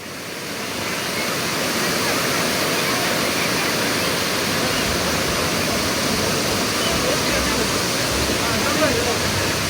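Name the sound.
Amboli roadside waterfall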